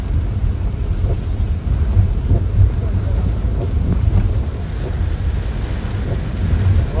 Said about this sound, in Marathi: पाऊस आला. पाऊस किती आला.